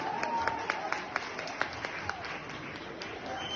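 An audience claps in a scattered way, with sharp individual claps standing out over a low murmur of voices.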